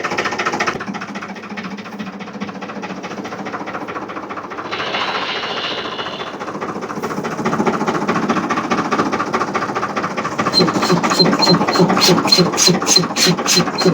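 Tractor-driven air compressor at a mobile puncture repair shop runs with a steady mechanical drone and rapid rhythmic clatter, rising louder with sharp regular pulses near the end; voices murmur faintly in the background.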